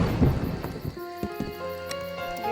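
In the Roblox game Break In 2, a hailstorm hammers down as a dense, steady patter with low thunder-like rumble. Sharp tonal game sounds ring over it partway through.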